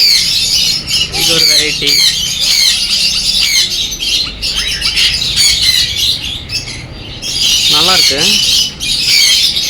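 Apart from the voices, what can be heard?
birds calling in a pet shop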